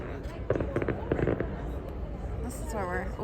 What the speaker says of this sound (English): We get to watch fireworks at our fancy rooftop dinner.